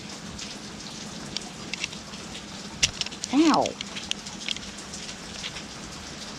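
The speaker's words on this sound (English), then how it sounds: "This rain around here." Steady rain falls as a continuous soft patter on outdoor surfaces, with a brief vocal exclamation and a few sharp taps partway through.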